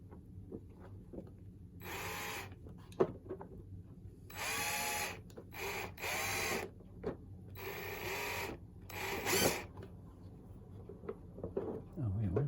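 Short bursts of a power screwdriver whir in and out as parts of an Arcade1Up arcade cabinet are screwed back together, with clicks, handling noises and someone talking between bursts.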